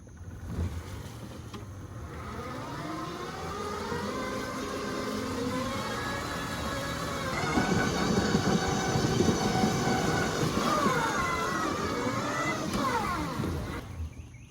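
A steady electric whine with rising and falling tones as an electric zero-turn mower drives along, continuous and fairly close, no voices.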